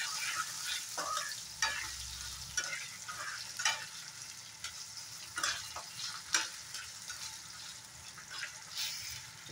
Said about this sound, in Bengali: রসুন আর কাঁচা লঙ্কাটা ভালো করে ফ্রাই হয়ে গেছে